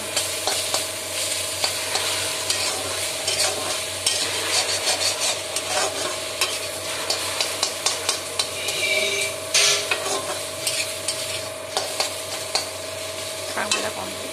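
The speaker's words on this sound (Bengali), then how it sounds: "এবার শাক ভাজা হয়ে গেছে" Leafy greens (shak) sizzle steadily in a hot pan while a spatula stirs and scrapes them with repeated close scratchy strokes throughout.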